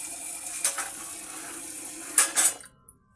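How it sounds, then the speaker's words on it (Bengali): Masoor and khesari lentils being washed in water in a pot, soft sloshing with a few sharp clinks of the vessel and a louder splash near the end before it stops. "এখানে মসুরি এবং খেসারি 2 রকমের ডাল আমি ধুয়ে নিচ্ছি।"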